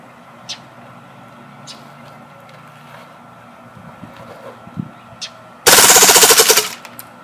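KWA Kriss Vector Super V airsoft gas blowback gun firing full auto in a backyard: a few quiet single pops, then one loud, close burst of rapid clattering shots lasting about a second before stopping.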